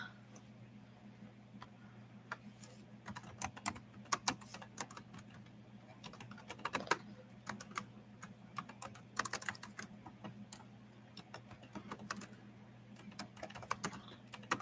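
Rapid computer keyboard typing clatters on steadily for the whole stretch, irregular bursts of clicks over a low room hum, fairly close and moderate in level.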